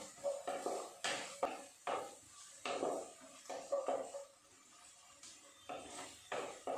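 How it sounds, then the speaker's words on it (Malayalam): A utensil scrapes and clatters against a pan as onions are stirred while cooking for an egg curry, in quiet, irregular strokes with faint sizzling beneath. "നന്നായിട്ടൊന്ന് ഉള്ളി വരണ്ട് വരുന്നത് വരെ നന്നായിട്ട് ഇളക്കി കൊടുക്കണം"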